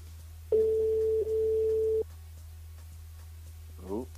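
A telephone line gives a steady ringback or busy tone lasting about a second and a half while a call is placed, over a constant low line hum, followed by a short burst of voice near the end.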